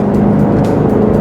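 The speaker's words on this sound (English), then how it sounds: "550 horsepower, Shelby Mustang." A 550-horsepower Shelby Mustang engine drones steadily and loudly up close, a dense low rumble holding even throughout with no pauses.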